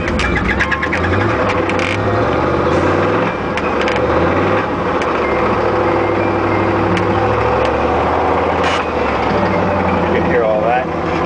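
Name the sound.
Isuzu NPR gas box truck engine revving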